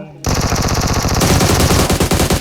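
Loud, continuous automatic gunfire in the mobile battle royale game PUBG Mobile, rapid bursts rattling nonstop after a brief quiet start, close and dominant.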